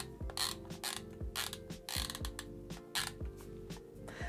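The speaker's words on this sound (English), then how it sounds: "You can't deny that this camera has a more satisfying sound when you're using it." A Yashica MF-1 film camera's mechanism is worked repeatedly, giving crisp close ratcheting film-advance clicks and shutter snaps in an uneven rhythm of about a dozen strokes, with nothing else in the background.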